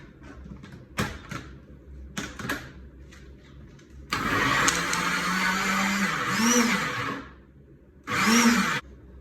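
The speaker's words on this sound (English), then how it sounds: "Now it's time to blend." A kitchen blender whirs through vegan mozzarella ingredients seasoned with garlic powder and fleur de sel, in one long loud burst followed by a shorter second burst, with softer clattering before.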